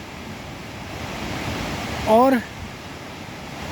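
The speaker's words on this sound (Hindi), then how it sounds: "निरंतर इस वेग से जलधाराओं का बहना" Fast streams of water rush in a hilly area, making a constant broad roar, with someone speaking a single word over it.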